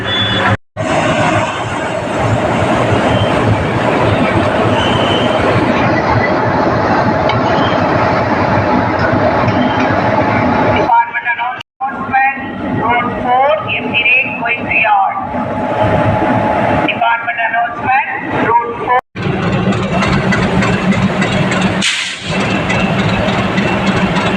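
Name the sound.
Vande Bharat Express train running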